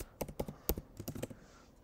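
A password is typed on a Mac computer keyboard, a quick run of about a dozen close, crisp key clicks in an uneven rhythm, then quiet.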